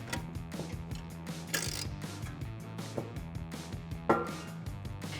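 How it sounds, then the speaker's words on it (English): Ratchet clicking in short repeated bursts as a 10mm socket tightens a heat shield bracket bolt during a cold air intake install on a 3.6L Dodge Challenger, with light metallic clatter and no talk. "With a 10mm wrench and a 10mm socket, go ahead and tighten it down."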